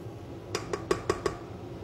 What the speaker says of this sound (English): We'll scrape the bowl down by hand just to make sure that we have everything well incorporated in the bottom of the bowl